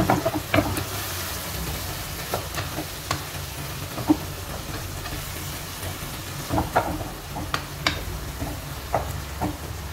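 A spoon stirs chicken curry with tomatoes in a hot pan, a steady sizzle and hiss of frying under scattered scraping clinks, close and continuous with no talking.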